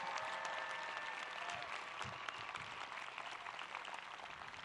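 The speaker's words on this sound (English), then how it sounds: "Let's give them a round of applause." Audience applause at a high school graduation ceremony, a steady wash of many hands clapping in a large hall, moderately distant and sustained for several seconds with no talk.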